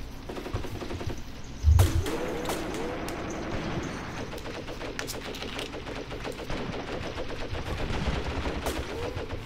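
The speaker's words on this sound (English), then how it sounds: "Just got a few mortars going out as well." Mortar and other gunfire in the tank battle game Graviteam Tactics: Mius-Front, a loud low thump near the start followed by steady distant shots and crackling battle noise throughout.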